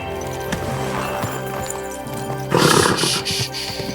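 A horse in Kingdom Come: Deliverance 2 gives a loud, close whinny after a stretch of hoof clatter and movement, the neigh rising sharply near the end.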